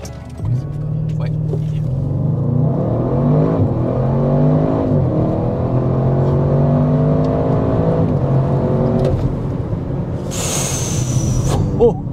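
An Audi RS6 Performance makes a launch-control start. The engine roars under hard acceleration and its pitch climbs in stepped surges through the gear changes, loud and close, ending in a sharp burst.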